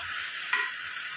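Washed moong dal tipped into a pan over a low gas flame, a brief scraping stir against a steady soft sizzle, close and quiet.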